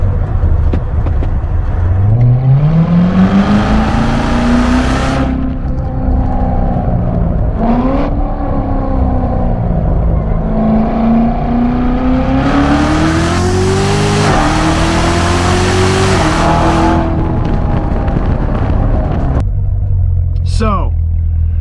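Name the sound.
Chevrolet Corvette engine revving while accelerating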